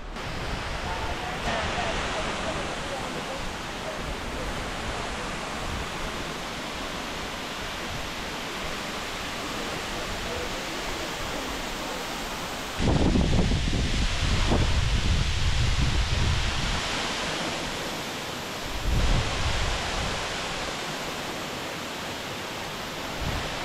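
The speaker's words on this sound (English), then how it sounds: "now we are at these waterfalls that were just down the road" Continuous rushing water of a waterfall in Tahiti, French Polynesia, roars steadily, growing louder and fuller partway through as if coming closer to the falling cascade.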